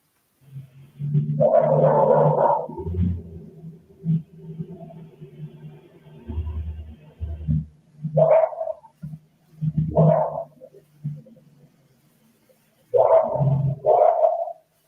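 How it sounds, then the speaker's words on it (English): A dog barks in the distance at night, a few short separate barks spaced apart over a quiet background with low hum, faint and far away. "That's a different bark than the other ones that were before that."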